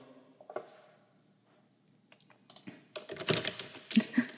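Close keystrokes on a computer keyboard come in short irregular bursts, sparse at first and then denser and louder toward the end, with no voices.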